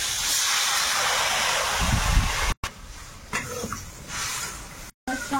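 Water poured into a hot pan of egg curry gives a loud, steady sizzling hiss that fades after a couple of seconds into quieter kitchen noise with brief breaks.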